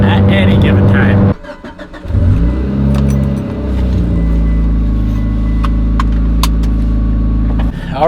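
A Mitsubishi Evo 8 tuned to nearly 800 wheel horsepower roars on a dyno, loud and close, dropping briefly before climbing in a sustained rising rev with harmonic whine and sharp pops, with voices present over the engine.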